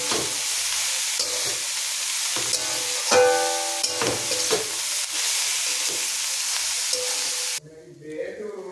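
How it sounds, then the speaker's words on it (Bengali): Cauliflower stir-fried in a pan with onion and chilli sizzles steadily while a spatula scrapes and clinks against the metal in repeated strokes, close and moderately loud, with the frying dropping away abruptly near the end. "তারপর এটাকে আমি একটু নাড়াচাড়া করে নেব"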